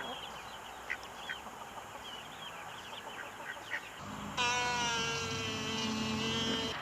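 Meat chickens peep softly against a background hiss, then one lets out a louder, drawn-out call close by.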